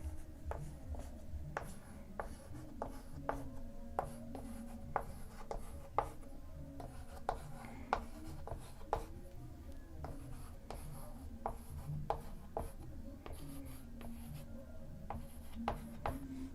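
A pen scratches out numbers by hand on paper, producing steady light taps and strokes with brief pauses throughout, close and fairly quiet, with occasional faint speech in the background.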